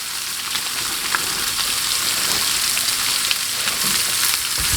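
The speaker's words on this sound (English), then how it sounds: "Then just mix them up in there and let them cook. The bacon will continue to cook with the potatoes." Diced potatoes and bacon sizzle steadily in a frying pan for a breakfast burrito filling, a close, even crackle with occasional stirring and no talking.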